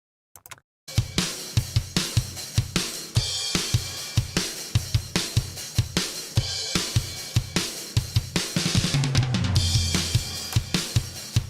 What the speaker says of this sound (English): that's the sound of 10 microphones around a drum kit inside a shed